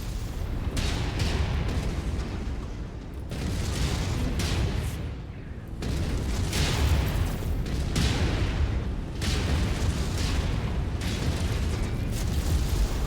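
Booming explosions from destroyed vehicles in the mech combat game MechWarrior 5, heavy low rumbling blasts repeating loudly and densely across the whole stretch with no voices.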